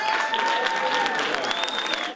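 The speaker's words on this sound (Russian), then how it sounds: "Аплодисменты!" A school audience gives a brief burst of steady applause at a meeting with an Olympic champion, dense clapping filling the room from start to finish.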